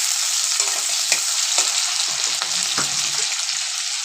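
Green chillies and spices fry in a hot pan for an old-style village dish of taro greens with dried fish, giving a steady close hiss of sizzling broken by occasional scrapes and clicks of a stirring spoon.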